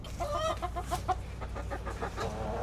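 Backyard homestead chickens, including a brown hen, clucking close by in a quick run of short rhythmic calls over a low hum of outdoor background noise.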